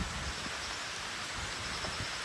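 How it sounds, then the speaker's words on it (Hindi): Steady rain pours down outdoors, a dense continuous hiss with scattered drop patter, loud and close throughout with no voices. "बारिश हो रही है"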